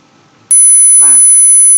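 A piercing 10,000 Hz sine tone generated in MATLAB starts suddenly and continues loud and unwavering, with faint accompanying tones, as someone talks briefly over it.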